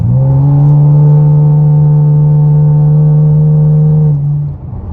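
Steady low axle-back exhaust drone heard from inside a car with the window up, a smooth humming tone held for several seconds before it drops away, muffled and moderately loud.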